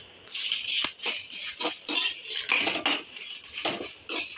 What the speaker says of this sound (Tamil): கடலைப்பருப்பு சூடு ஏறிட்டு அது கூடவே காஞ்ச மிளகாய், கருவேப்பிலை, பூண்டு இதையும் நம்ம ஆட் பண்ணி வறுத்து எடுத்துக்கலாம்.